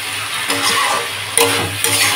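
Masala frying down in a pan while a curry is cooked, a brief close sizzle with bright crackles and a couple of quick stirring scrapes.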